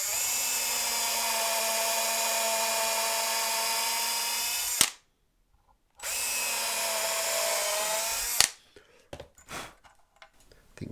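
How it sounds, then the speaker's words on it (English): A power drill with a 4mm bit whines steadily as it enlarges screw holes in a Stratocaster guitar body, two long bursts of about five and two and a half seconds split by a short silence, then quieter handling noises. "So I'm going to go with a 4mm drill bit"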